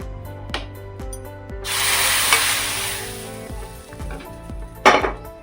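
Hot tempering poured onto Goan-style toor dal aamti bursts into a loud sizzle that swells and fades over a few seconds, alongside clinks of a metal pot and spoon, with a sharp clatter near the end.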